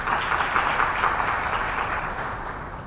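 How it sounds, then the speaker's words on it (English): Audience applause at an international remote sensing conference on African space development, a soft, steady wash of clapping that stays even, then eases slightly toward the end. "Please let us give him another round of applause."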